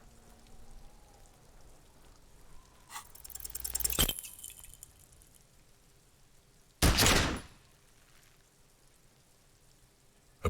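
Gunshot fired at a corpse in the video game Disco Elysium, one sharp loud blast standing out against a steady background of falling rain, preceded by a rising rumbling swell.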